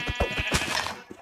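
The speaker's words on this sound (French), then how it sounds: "Un mouton possédé, il s'appelait." Minecraft sheep bleating in a horror-themed game, a short cluster of quick, nasal bleats close up, followed by a faint trailing sound.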